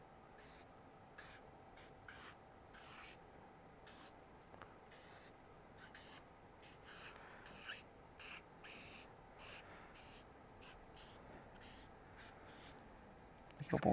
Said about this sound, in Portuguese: eu vou desenhar no flipchart esse circuito para ir explicando para vocês como é que funciona